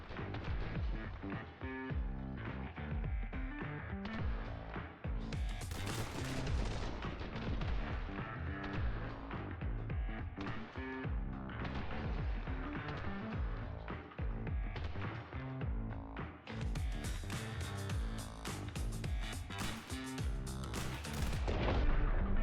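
Rapid, loud gunfire from The Hong Kong Massacre video game, dense bursts of shots and booms continuing almost without pause throughout, with no speech over them.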